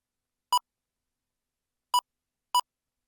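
An XP ICON X metal detector on a beach gives three short, clean electronic beeps, one alone and then two in quick succession, against total silence.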